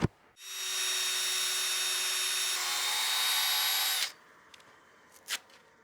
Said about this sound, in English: So I'm just going to sand that a little bit more, and then we can move on to our 320.